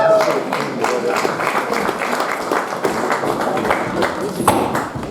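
An audience claps steadily at a winter party show as a young woman in a red hat is called up on stage, a dense run of applause lasting throughout with voices mixed in.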